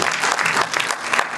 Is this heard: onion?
no